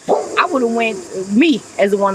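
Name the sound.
dog barking outside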